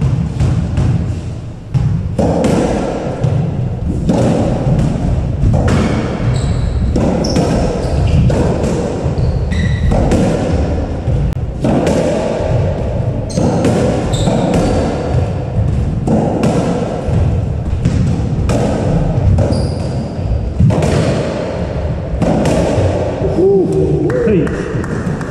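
Squash ball struck repeatedly during a rally at an open championship final, sharp hollow thwacks and wall thuds in an irregular rhythm echoing in the court, with occasional voices.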